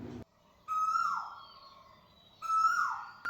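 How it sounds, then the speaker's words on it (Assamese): Asian koel calling on a morning walk: two loud, rising whistled calls close by, each held about a second, with quiet gaps between and no voices. "এইফালে কুলিৰ মাত শুনিছেনে?"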